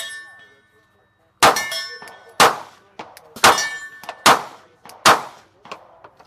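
Radian RM1S pistol fired at steel targets, six sharp shots in uneven succession, each a loud crack followed by a ringing metallic clang that decays briefly, after a quiet start with a faint ringing tail.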